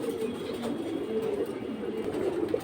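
Himalayan racer pigeons coo in soft, overlapping low murmurs, close by in a loft, continuous over light background noise with no speech.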